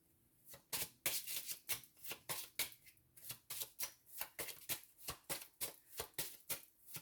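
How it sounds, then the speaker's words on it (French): A deck of cards being shuffled for a love card reading, a steady run of quick, close riffling bursts in regular rhythm, with no voice over it. "Je vais reprendre une carte."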